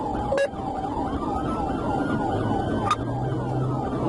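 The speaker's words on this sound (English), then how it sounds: "my emergency lights and sirens were activated" A police car's siren wails steadily in a rising and falling sweep during a highway pursuit of a stolen vehicle, loud and continuous over road and engine rumble, with two brief clicks.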